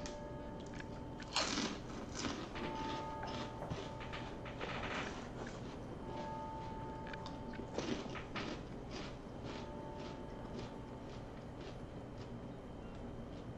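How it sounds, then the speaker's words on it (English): Someone munches food close to the microphone during a Total War Medieval Kingdoms 1212 AD game stream, with soft repeated crunching bites and chewing at an irregular pace over quiet game sounds. "Can you hear me munching on the stream?"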